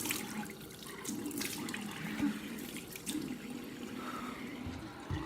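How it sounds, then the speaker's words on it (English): Konjac sponge rinsed under a running tap, a steady broadband rush of water with small splashy fluctuations as the sponge moves through the stream, close and continuous with no talking. "okay, I'm gonna rinse this off"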